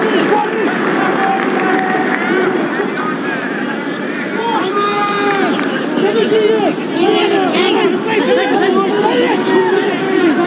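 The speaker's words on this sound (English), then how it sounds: "every time Davis gets the ball, this crowd really does come alive." Crowd noise from spectators at a 1991 Wales versus Papua New Guinea rugby match, a continuous roar and murmur of a large stadium audience under loud, steady commentary.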